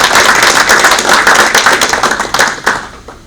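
An audience applauds at the 2021 Sejong Defence Forum, a Korean defence policy conference. Dense, close clapping runs continuously and then thins into scattered claps as it dies down.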